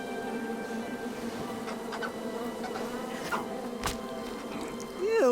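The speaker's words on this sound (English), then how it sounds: "I ruined the bees' day and that lovely meal." Bees buzz in the King's Quest video game, a steady droning hum with fluttering swells that rises sharply at the end, close and continuous.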